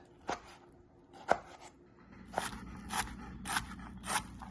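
Salad vegetables being chopped by hand with a knife on a board: a handful of crisp, separate cuts that fall at irregular intervals and turn into a steadier run of chops toward the end, close up and with no talking.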